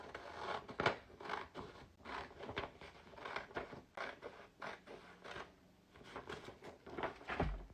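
Scissors cutting paper cards along printed lines, a quiet, steady series of crisp snips and crinkly paper rustles repeating close by, alone without talk.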